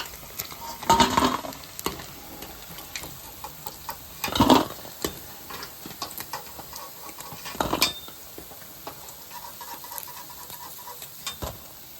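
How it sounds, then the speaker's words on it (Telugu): Paneer cubes fry in a pan for kaju chilli paneer, giving a soft continuous sizzle with a few louder scraping and clattering stirs spread through, close up and moderately quiet, with no voices. "మిగిలిన పన్నీర్ ముక్కలు కూడా ఇదే విధంగా వేసుకోవాలి. ఇలా విడివిడిగా వేసుకొని ఇలాగన్నీ వేపుకొని పక్కన పెట్టుకోవాలి."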